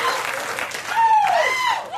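A studio audience at a Conan O'Brien late-night taping from 2004 cheers and applauds loudly, with shrill whistles rising over the steady clapping and a voice talking through it.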